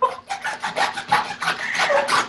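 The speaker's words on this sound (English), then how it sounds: "I'm really sawing away these. Mine are dull, but they're serrated" A dull serrated knife saws through artichokes in repeated back-and-forth rasping strokes, about ten quick passes, close and fairly loud with no talking.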